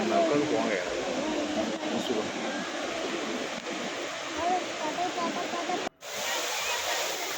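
Thusharagiri waterfall roars nearby as a steady, dense rush of falling water, with faint voices mixed in and a brief dropout near the end.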